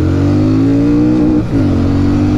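A Royal Enfield Shotgun 650 motorcycle engine drones loudly, its pitch climbing slowly, then dipping briefly before rising again, like a gear change under acceleration.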